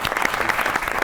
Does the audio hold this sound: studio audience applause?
yes